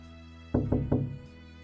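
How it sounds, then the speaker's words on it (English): Three firm knocks on a wooden room door, close and evenly spaced, with a low hum of background music underneath. "When I was knocking on the door, I heard the sounds of movement."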